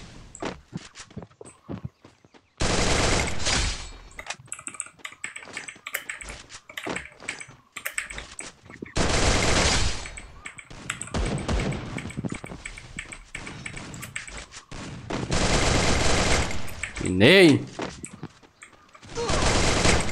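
Gunfire bursts in the Free Fire video game played on an emulator, loud bursts of rapid shots broken by quieter gaps with keyboard clicks and footsteps, while a player speaks briefly.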